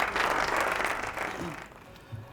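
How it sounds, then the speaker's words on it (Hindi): A quiz competition audience gives a short burst of steady applause that tapers off within about two seconds. "तालियां हो जाए"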